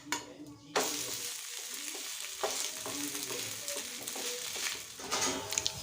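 Tomato dosa sizzles in a little oil on a pan over a medium flame, a steady crackling fry that starts abruptly after a near-silent moment and continues with small scraping stirs throughout.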